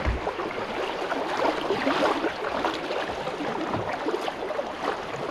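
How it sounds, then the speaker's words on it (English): Small waves lap and splash steadily around a kayak on the Sacramento River, a close continuous watery wash with no voices. "These little waves are so fun."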